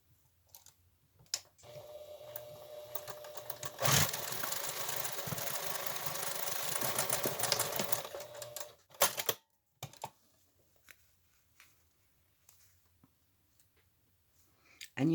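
A sewing machine stitches a face mask in one steady, continuous run of several seconds, close and fairly loud, then stops, followed by a few sharp clicks and handling knocks.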